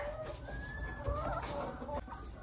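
A Shamo chicken, a fancy farm breed, gives soft, close clucks and short calls against a quiet background, with other birds faintly audible.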